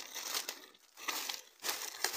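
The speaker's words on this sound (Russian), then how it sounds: "сегодня будем распаковывать неизвестный пакет" Crinkling plastic package being unpacked, a close, continuous rustle and crackle that swells and eases in waves, with a couple of short dips between bursts of handling; no talking.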